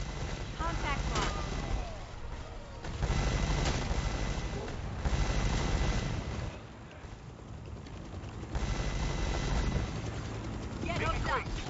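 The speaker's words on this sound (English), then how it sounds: "Boy, you better get in that chopper." A helicopter arrives in the Predator Hunting Grounds video game, its loud, pulsing rotor wash filling the scene alongside bursts of gunfire-like noise, with no talk over it.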